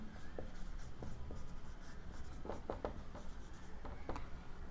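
A pen writing chemistry notes, giving quiet, close scratchy strokes and small taps in an irregular rhythm over a faint steady background hum.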